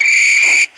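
A railway guard gives one loud, shrill, sustained whistle blast that holds steady for well under a second, then cuts off abruptly, close and alone.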